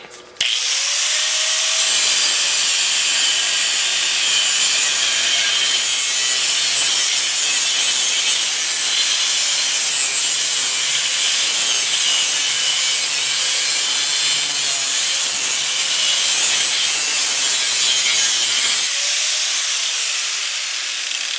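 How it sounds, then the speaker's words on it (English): An angle grinder cuts a bent metal lip on a 2001–05 Honda Civic during front lower control arm bushing work. It gives a loud, harsh, steady hissing grind that runs for about seventeen seconds with no talk. "I'm not gonna do a hacksaw. I'm gonna do Mr. Angle Grinder."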